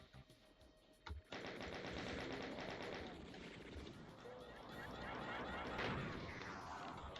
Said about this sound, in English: opportunistically shooting the hit scanners as they go by